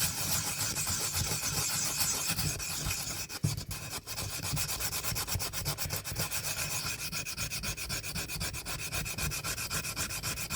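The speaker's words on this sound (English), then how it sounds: "I'm going to wet it down again, and I'm going to sand it one more time with new sandpaper." A mold is wet-sanded by hand with new sandpaper, giving a steady, close, rhythmic rubbing and scraping of quick back-and-forth strokes that carries on without a break.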